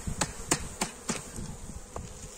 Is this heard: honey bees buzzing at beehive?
yes